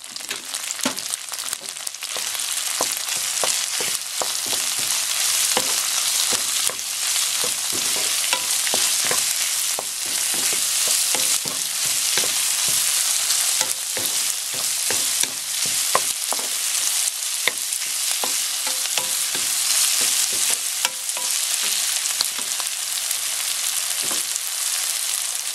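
Shiitake mushrooms being stir-fried in a pan for mapo doufu, a steady loud sizzle with frequent scraping stirs throughout, no talking.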